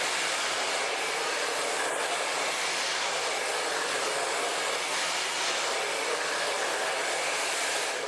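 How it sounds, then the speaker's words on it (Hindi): A hair dryer blow-drying curly hair, a continuous loud airy roar held steady throughout, close to the listener with no talking. "तो इस तरीके से लेंथ पे ड्रायर करना है"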